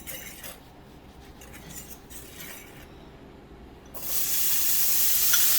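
Small pieces of young, tender turnip begin frying in a pan, with a quiet start giving way to a loud, steady sizzling hiss that continues to the end.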